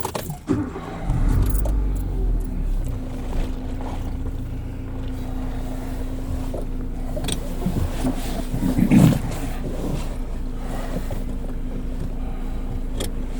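Steady low engine drone and road rumble from a car on the move in cold weather, with a brief louder swell partway through, no talk.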